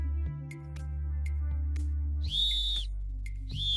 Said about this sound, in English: John used his whistle to attract attention.